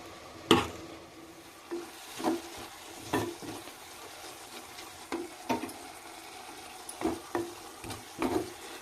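Spinach fry stirred in a clay pot: soft sizzling sits under a series of irregular scraping, knocking strokes of a spoon against the pot, close by and fairly quiet, with no speech.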